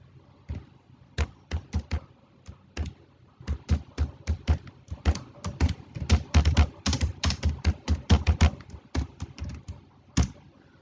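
Code is typed on a computer keyboard in uneven bursts of close, crisp key taps, sparse at first and then quickening into dense runs before tapering to a few final strokes.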